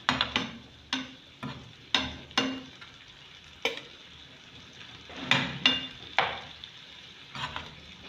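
Meat pie filling frying in a pan, a soft sizzle running underneath a series of sharp spoon-against-pan scrapes and taps that come in irregular bursts while the filling is stirred, fairly close and moderately quiet, with no talking.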